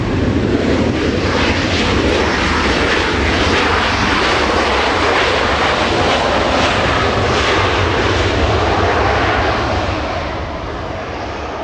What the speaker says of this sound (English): British Airways, the 777 on runway 25 left